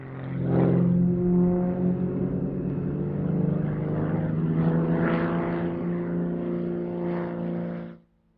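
An Extra competition aerobatic propeller plane of composite build passes at an air show, its buzzing engine and prop drone loud and near, rising and falling in pitch for several seconds before cutting off abruptly.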